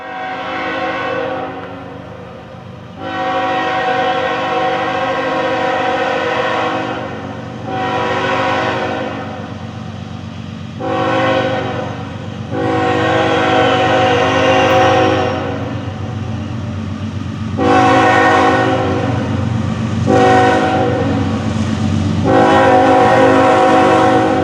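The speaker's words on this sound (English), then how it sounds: "So, sit back and enjoy the trains in the fall foliage." A train rumbles past in northeast Alabama or south Tennessee with a loud, sustained multi-tone horn blaring in several long blasts over the steady roar and clatter of the wheels.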